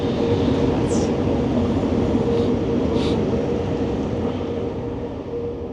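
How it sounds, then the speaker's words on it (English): A train rumbles past with a steady, continuous roar and clatter, loud and close, with faint higher squeals rising briefly above the din. "that's a train passing."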